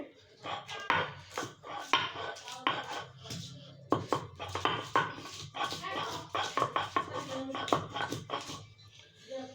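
Onion and chili being ground into a paste by hand, heard as a steady run of close, sharp knocks and scraping strokes, with a quieter voice and some household background noise underneath.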